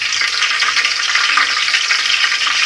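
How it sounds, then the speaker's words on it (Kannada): Mustard seeds drop into hot oil for radish sambar, giving a loud, steady hiss with a dense crackle that holds evenly throughout, no voices present. "ಸಾಸಿವೆ ಹಾಕ್ಕೊಳ್ಳೋಣ ಫಸ್ಟು."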